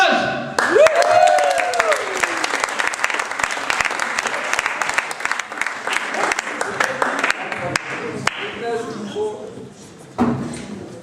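Loud audience applause at a slam poetry tournament round, dense continuous clapping from a crowd that swells, then thins toward the end.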